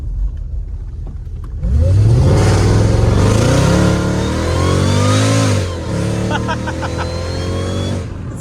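A Mercedes E55 AMG launches hard and accelerates nearby, building into a loud roaring rush with rising pitch through the gears before easing into a lower rumble, with faint voices in the background.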